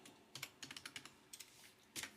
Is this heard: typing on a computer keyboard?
yes